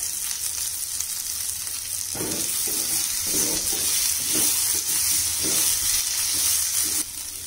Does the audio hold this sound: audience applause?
no